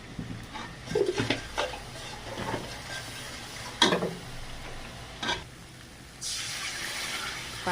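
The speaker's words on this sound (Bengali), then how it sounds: "মশলাটা আমি ভালো করে ভেজে নেব।" Spices, salt and chili powder frying in a pan while cooking koi fish with cauliflower, a low sizzle broken by scraping stirs and utensil knocks, then a louder, steadier hiss near the end; no talking.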